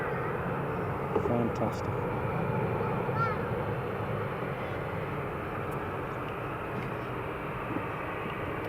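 A Dreamliner airliner climbing away from Edinburgh Airport bound for New York, a steady distant jet roar holding level throughout, with a brief spoken remark and background chatter over it.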